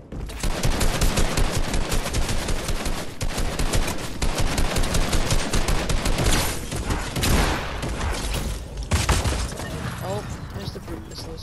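A scoped automatic rifle fires in a shooter video game, with loud, rapid, continuous bursts of gunfire rattling almost without pause and a few brief lulls between volleys.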